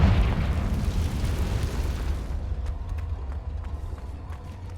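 A heavy booming blast from a Confringo spell in a video game rolls out loud at the start and decays into a long rumbling tail, with faint crackles fading away.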